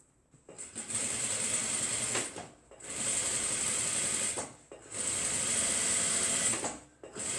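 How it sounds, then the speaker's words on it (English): Sewing machine stitching fabric while making a foldover bag, three sustained bursts of rapid whirring separated by short pauses, close and alone. "you lift up your sewing machine"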